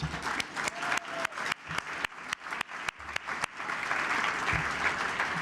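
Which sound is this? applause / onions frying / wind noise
applause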